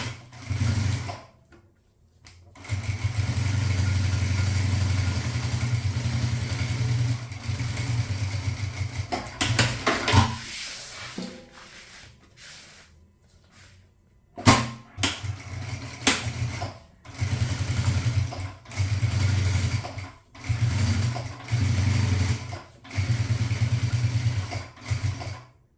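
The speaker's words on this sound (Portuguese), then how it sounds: "Eu já vou pra máquina, vou fazer uma costura aqui" An industrial sewing machine stitches a seam in a box-making workshop, running in repeated loud bursts of rapid, steady whirring with short pauses between them and a longer break partway through.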